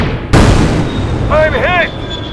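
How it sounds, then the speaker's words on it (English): A transport craft blasted out of the sky in a sci-fi audio drama, heard as a sudden loud explosive burst that rumbles on, followed by warbling electronic tones and a high whine. "The stealth transport moves in for the base, but it is blasted out of the sky by Silo."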